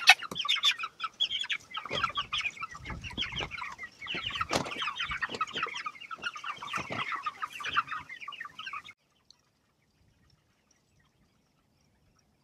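Chickens cluck busily on an open pasture, a dense, overlapping stream of clucks and calls from a nearby flock that runs steadily for several seconds before stopping abruptly into near silence.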